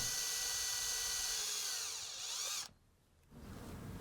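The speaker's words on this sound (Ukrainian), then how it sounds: "Міліметровим свердлом робимо отвори." A small high-pitched drill with a 1 mm bit whines steadily boring holes in brass, its pitch dipping as it bites, then cuts off abruptly before a faint hum returns.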